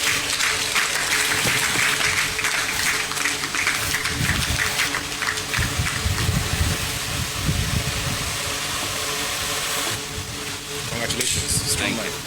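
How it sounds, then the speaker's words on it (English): A large audience at a business event gives a long, sustained round of applause to welcome the chairman of the B5 Plus Group, with dense clapping over low background rumble throughout. "please help me with a big round of applause to welcome the chairman of the B5 Plus Group, Mr. Mike Mukesh Takwani"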